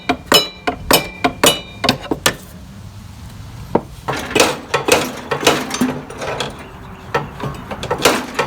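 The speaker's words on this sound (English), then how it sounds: "I've been tapping it with my hammer back, and then crowbar tapping it forward or closer to me" Sharp metallic taps from a hammer striking a Snapper riding mower clutch part, coming in irregular clusters with short pauses, some clinking ringing, close and alone.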